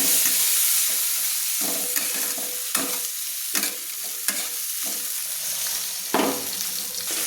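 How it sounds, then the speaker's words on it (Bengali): Chopped medium-sized onions fry and get stirred in a hot pan, a steady loud sizzle broken by sharp scraping strokes of the spoon every second or so, with no one talking. "পেঁয়াজটা যতক্ষণ লাল লাল করে ভাজা হয় ততক্ষণ আমি নেড়ে নেব"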